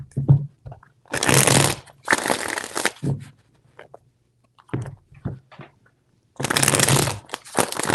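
Tarot cards being shuffled in three loud riffling bursts separated by quieter pauses with faint handling taps, close up, no voices.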